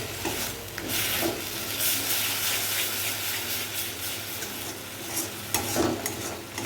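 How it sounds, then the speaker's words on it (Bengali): Cauliflower leaf paste being stirred in oil in a kadai as it dries, with a close sizzle under repeated scraping strokes of the spoon, irregular and moderately loud, a few sharper scrapes near the end. "একটু নাড়াচাড়া করে নিই"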